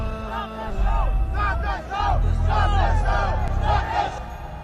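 A large crowd at a concert shouts and chants together in loud, rhythmic bursts over a deep low rumble, the roar rising and falling in waves.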